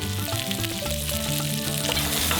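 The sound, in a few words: pak choy frying in sesame oil in a pan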